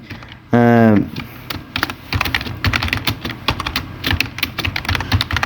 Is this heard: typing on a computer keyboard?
yes